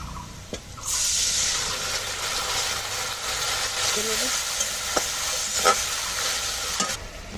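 Ground spice paste hits a pan of deep-browned chopped onions and bursts into a loud, steady sizzle that holds for several seconds, broken by a few clinks and scrapes of stirring.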